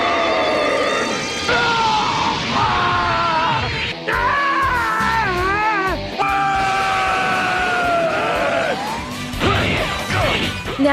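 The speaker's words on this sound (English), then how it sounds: "And why is there so much screaming?" Characters in the Dragon Ball Z Budokai fighting game on GameCube cry out and scream loudly and almost without a break, mixed with smashing hits and crashing impacts.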